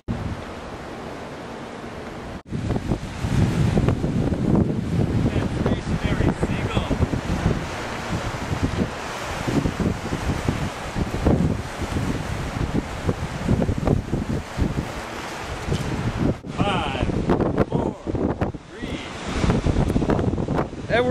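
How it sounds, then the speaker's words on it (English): Strong gusty wind on a hilltop buffets the microphone in a continuous roar, with brief lulls and surging blasts throughout. "It was also very windy."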